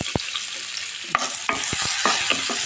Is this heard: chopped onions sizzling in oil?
yes